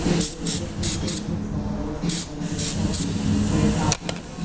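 Brake cleaner sprayed onto front brake parts during a brake pad job: several short hissing spray bursts in a row, close and fairly loud, over low background noise.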